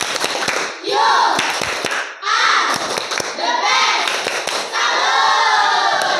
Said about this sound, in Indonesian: Kita beri tepuk salut buat kelompok Amanda